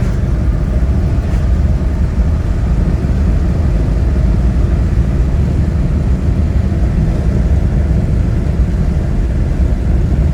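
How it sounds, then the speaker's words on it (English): Steady engine rumble and road noise heard from inside a moving 1978 Ford Thunderbird with a 302 V8, a constant low drone with no breaks. "Car drives very nice, transmission shifts smooth."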